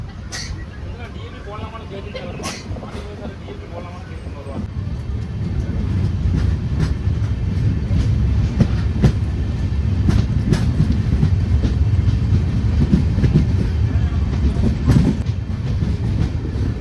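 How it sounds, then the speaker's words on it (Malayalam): The Punalur–Madurai Express with new LHB coaches rolls out of the station, its low rumble and rhythmic clickety-clack of wheels over rail joints building steadily and loud, with a voice talking over the train throughout. "പാസഞ്ചർ പോയ ഉടനെ തന്നെ നമ്മുടെ വണ്ടി ഇവിടെ നിന്ന് വിട്ടിരിക്കുകയാണ് കേട്ടോ"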